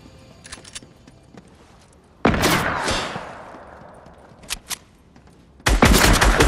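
Gunfire from the player's weapon in a video game comes as a loud shot with a decaying tail, a couple of quieter clicks and bursts after it, then another loud burst at the end.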